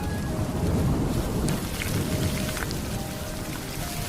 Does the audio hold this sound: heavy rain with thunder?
yes